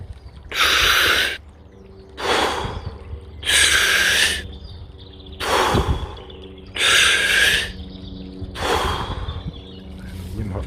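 Deep breathwork in the Wim Hof style, with slow, loud, close inhales and exhales alternating in a steady rhythm of about six full breaths, with no speech between them.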